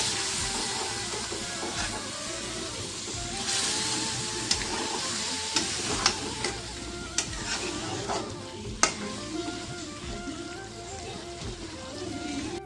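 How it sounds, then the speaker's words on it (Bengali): Coriander chicken sizzles and hisses steadily in a pan with a little added water while a spoon scrapes and stirs it, sharp clinks of the utensil against the pan punctuating the close, continuous frying. "দিয়ে আবারও একটু ভালো করে নাড়াচাড়া করে নেব।"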